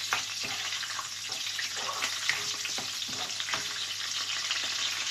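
Garlic sautés in a pan for ginataang hipon, a shrimp dish with string beans, giving a continuous, close sizzle with scattered light crackles and occasional stirring scrapes.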